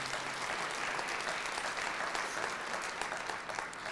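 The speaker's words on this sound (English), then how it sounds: "Give them a round of applause for their advocacy." An audience at a live state of the city address gives a dense, even round of applause, fairly faint and distant, continuing unbroken for a few seconds.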